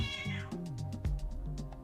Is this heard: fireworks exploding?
no